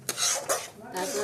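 Laddu mixture being fried and stirred in a pan for Lakshmi puja, heard as a few short scraping strokes of a utensil against the pan, close and fairly quiet.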